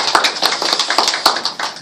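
Applause for a speaker at a Korean talk event, sharp close hand claps in a brisk, somewhat uneven rhythm, loud and fairly sparse, as if from a small group.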